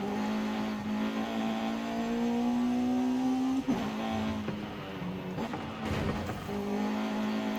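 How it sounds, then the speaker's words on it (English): A race car's engine in a racing video game screams at very high revs, holding a strong steady pitch, dipping briefly at a gear change, then climbing again. "The rev's very high."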